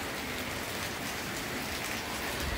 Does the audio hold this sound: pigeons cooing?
no